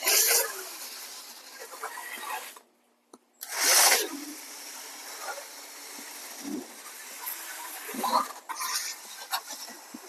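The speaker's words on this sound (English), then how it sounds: "let's get to sanding" Pond shield coating sanded by hand, a steady, close rasping scrape that runs in bursts with a short silent gap partway through.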